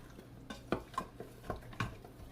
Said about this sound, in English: we're going to continue to stir this for a bit till all of those little brown pieces are up off of the bottom